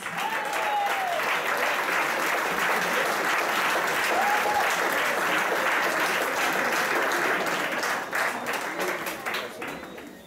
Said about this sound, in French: Je vous demande d'applaudir chaleureusement Christiane Boras